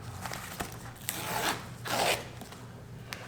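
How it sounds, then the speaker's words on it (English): A well-taped package is slit open with a Fallschirmjäger knife, giving a couple of scraping, ripping swishes of the blade through tape and cardboard over a quiet background. "Get out our handy Fallschirmjäger knife, make a little cut here. It's taped really well."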